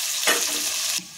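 Onions and green chilies sizzling in a pan, a close continuous fry hiss that swells briefly, then drops abruptly near the end, no voices.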